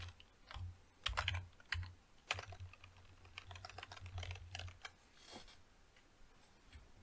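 Keys clatter in uneven bursts on a computer keyboard during a slow Windows hacking session, close and fairly quiet, with a low steady hum underneath.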